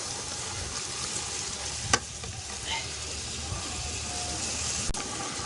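Mutton fries in a large pot of a 10 kg batch while being stirred, a steady close sizzle with scraping stir sounds and one sharp metallic knock, and no voices.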